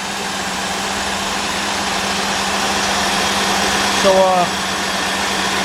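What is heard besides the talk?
1998 Cadillac Seville STS Northstar 4.6 engine idling with misfire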